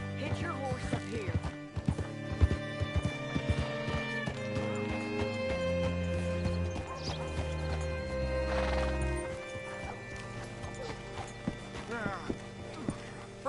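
Hooves clip-clop in a quick galloping rhythm amid Red Dead Redemption 2 game music and effects, with a horse whinnying partway through and people talking.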